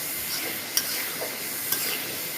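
Masala fried and stirred in a pan for chicken balls gives a low, steady sizzle punctuated by two sharp scraping clicks of the spoon against the pan.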